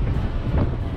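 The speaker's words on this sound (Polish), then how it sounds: "cały czas wiatr w twarz" Steady headwind buffeting the microphone while cycling, a constant low rumble and roar with no break, close and fairly loud.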